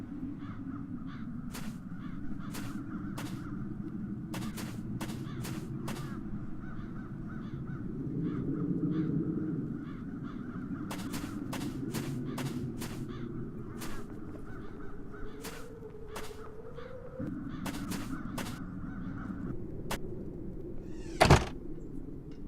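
Crows in the video game The Dark Eye: Chains of Satinav caw again and again over a steady low hum, the calls coming in scattered bursts with no talking.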